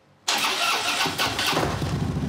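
A powerful Harley-Davidson motorcycle engine cranks and catches abruptly, then settles into a loud, close, rumbling idle with a slight swell in the throttle partway through.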